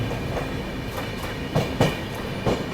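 Aboard the Howrah Rajdhani Express running on rails between New Delhi and Howrah, a steady rolling rumble carries rhythmic wheel clacks over rail joints, loud and close, with no talk.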